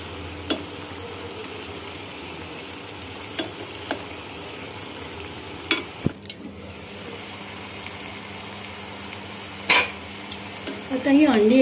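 Eggs cook in a pan with masala curry gravy, bubbling with a low, steady sizzle broken by a few sharp utensil clinks and scrapes, and a brief rise near the end.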